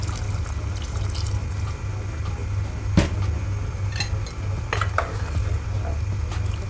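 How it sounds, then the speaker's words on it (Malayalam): Tamarind water is poured into a pot of simmering pumpkin and lentil curry, a continuous liquid pour with a soft steady rush and a few light clinks of a utensil against the pot, close by and without talk. "ഇനി നമുക്ക് ആവശ്യത്തിനുള്ള പുളിവെള്ളം ചേർത്ത് കൊടുക്കണം"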